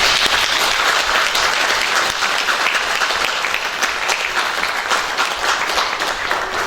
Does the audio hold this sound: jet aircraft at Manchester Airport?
no